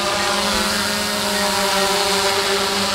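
A camera drone flies near the Daleshwar waterfall and temple, its steady propeller whine and motor hum continuous and fairly loud throughout, with no talk.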